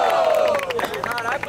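Audience at a Brazilian freestyle rap battle roaring and cheering for rapper Kairós, a brief burst of loud crowd noise with scattered shouts.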